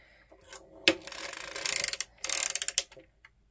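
A circular sock knitting machine is cranked by hand, close mechanical ratcheting and clicking of needles and gears in bursts, with a sharp clack early on and rattling runs after.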